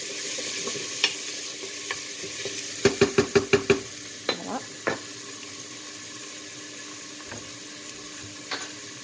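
Small onions sautéing in a pan: a quiet, steady sizzle broken by a quick run of six sharp utensil knocks and a few scattered taps and scrapes.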